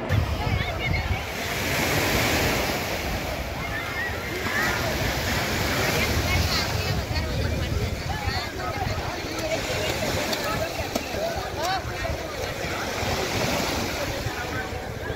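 Sea waves wash steadily onto Rameswaram beach, a dense, continuous roar of surf mixed with wind buffeting the microphone, with faint voices of bathers in the background.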